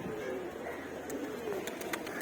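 Pigeons let out of a loft coo softly in a low, continuous murmur, fairly faint and distant, with a few light chirps near the end and no talk.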